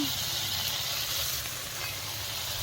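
Spice paste of ground pepper, cumin and turmeric sautéing in oil for a fish, potato and tomato curry, giving a steady, close, moderately loud sizzle that holds even throughout.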